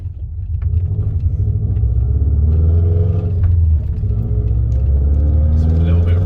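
Subaru Forester STB on the road, its engine and tyres giving a heavy, steady low rumble from inside the cabin, with someone talking over the drone throughout.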